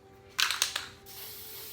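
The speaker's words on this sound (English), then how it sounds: "Take my spray paint, it's just the Rust-Oleum spray paint" Rust-Oleum spray paint hisses onto a dresser in a few short bursts, the close, sharp spray pulses stopping abruptly before a quiet room tone.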